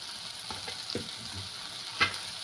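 Chopped capsicum and onion sizzle steadily in a hot pan for paneer bhurji, with a few soft stirring scrapes and one sharper spatula hit near the end, all close and alone without any voices.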